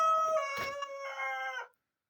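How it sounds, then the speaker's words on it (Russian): A rooster crows once, close and clear, among chickens in a farmyard beside a whitewashed shed, a drawn-out harmonic call with a brief break in the middle before it cuts off into silence. "Курочки ходят."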